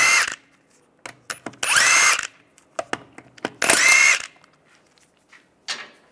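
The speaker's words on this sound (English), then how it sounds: "And go around, take the other lug nuts off." A power tool spins the lug nuts off the front wheel of a 1998-2010 Volkswagen Beetle in three loud whirring bursts, separated by shorter clicks and rattles.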